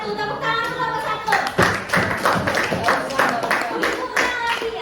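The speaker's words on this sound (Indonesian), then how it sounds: "Tepuk tangan untuk kelompok 1." Classroom of junior high students clapping for a quiz group, a ragged burst of hand claps with sharp individual slaps and a few thuds, close and fairly loud.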